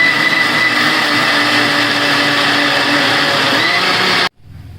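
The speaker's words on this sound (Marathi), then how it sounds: "हे तिन्ही पण मिक्सरला लावून घ्यायचं." A mixer grinder whirs loudly and steadily as it blends three ingredients into a paste, a constant high motor whine that cuts off abruptly near the end.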